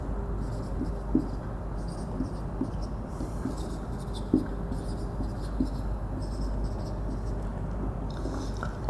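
Chalk or marker steadily writing determinant elements on a board during a maths lesson, a faint continuous scratching with small taps, over a low background hum and no talk.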